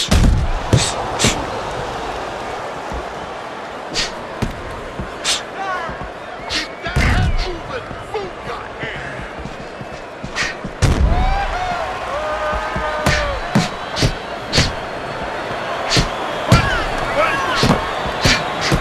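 Punches land in a Fight Night Round 4 boxing match, sharp thuds and slams arriving in quick irregular bursts of combinations, with commentators talking over the action.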